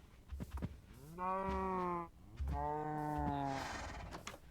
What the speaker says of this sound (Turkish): Burada hmm. bayağı bir inek var çünkü.